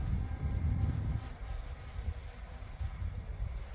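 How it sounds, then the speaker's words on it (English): Wind blowing at about 10-15 mph buffets the microphone outdoors, a low, rumbling, uneven roar that gusts stronger at the start and continues steadily, faint overall. "It's a little on the breezy side here, probably about 10-15 mile an hour winds"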